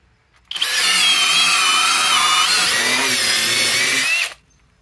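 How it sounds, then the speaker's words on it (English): Flex turbo handle drill on a 6 amp stacked lithium battery, driving a 1 inch speed bore bit into wood: one loud, steady, high-pitched whirring run of about four seconds, close and alone, cutting off cleanly. "Flex turbo handle drill, 1400 inch pounds."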